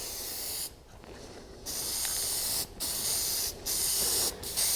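Spray can laying a light coat of paint on a Sparco steering wheel, several close hissing bursts of varying length separated by short pauses, loud and alone.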